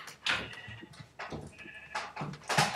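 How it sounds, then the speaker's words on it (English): Sheep bleat in the Minecraft game on a Mineplex server, several wavering calls in a row, loud and close, alone without talk. "We got another sheep!"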